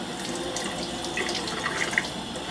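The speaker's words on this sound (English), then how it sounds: "turn it on lukewarm water." A bathroom or kitchen tap runs lukewarm water into a sink, a steady close splashing hiss with a few brief drips and clinks, no talking.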